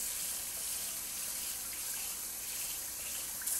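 Cold tap water running steadily into a sink while seahorse food is rinsed in a net: a continuous, close hiss and splash with no pauses.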